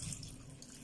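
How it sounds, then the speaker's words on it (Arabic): A glass of water poured into a pot of dried figs for jam, a brief faint splashing trickle, close and alone. "غادي نزيد عليها كاس ديال الماء."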